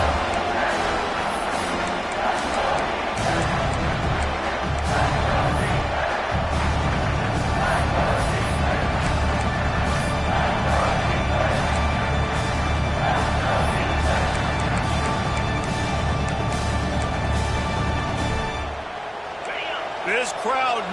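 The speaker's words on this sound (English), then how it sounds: "This crowd knows when to bring it." Stadium crowd noise from the College Football 26 video game roars steadily beneath loud play-by-play commentary, then drops away sharply near the end.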